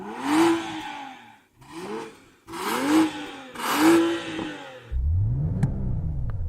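An Audi plug-in hybrid's engine revs in four rising and falling bursts, each swelling and dropping back, followed by a lower steady drone with a rising whine, heard loud and close from inside the cabin.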